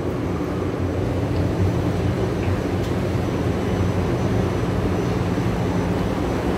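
Rubber-tyred medium-capacity Taipei Metro Wenhu line train at Xihu station, a steady, broad rumbling roar of the train moving through the elevated station, continuous and fairly loud with no voices.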